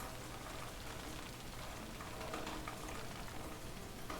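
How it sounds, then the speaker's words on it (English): Heavy rain falls outdoors in a dense, constant hiss of drops on surfaces, close and steady throughout with no voices. "if anybody can't hear me over the rain"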